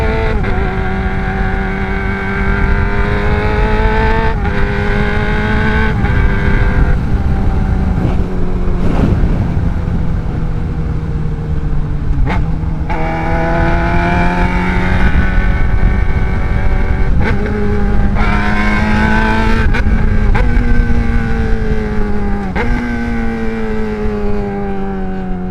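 A Yamaha R6 sport bike screams through its gears while being ridden, its loud high-pitched engine climbing in repeated rising pulls with quick shifts between them, heard up close over wind.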